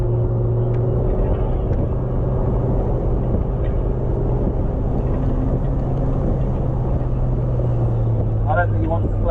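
Steady, loud engine drone from a Rover MGF VVC with a K-series engine, held in a low gear without a clear rise in revs, as a person talks over it.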